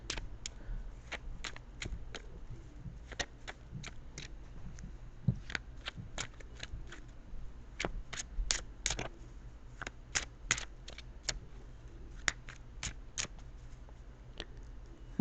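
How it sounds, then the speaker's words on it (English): A tarot card deck is shuffled and cut close by, making a long run of sharp, crisp card snaps and flicks at an uneven rhythm over quiet room tone, with no speech. "I'm going to cut the deck."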